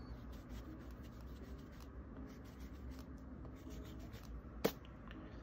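An eraser rubs across a drawing of a window frame, making a faint, steady scratchy friction close by. A single sharp click stands out near the end, and there is no talking.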